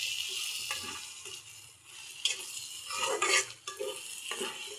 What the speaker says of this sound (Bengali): দেখেন ভাজতে ভাজা আমার কচুর শাক একেবারে ভাজা ভাজা ভাজা ভাজা হয়ে গেছে।